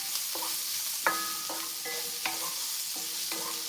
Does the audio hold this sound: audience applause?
no